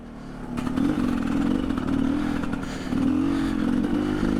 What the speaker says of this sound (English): Great thing with the motorcycle is they can typically hear us come